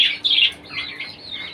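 Birds kept loose in an indoor pigeon loft give a short burst of sharp, squawking chirps up close, followed by softer, wavering calls that fade out.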